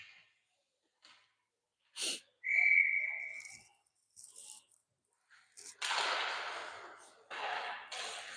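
A referee's whistle at a youth ice hockey game gives one short sharp blast amid scattered arena noise, crowd sounds and brief bursts of other activity.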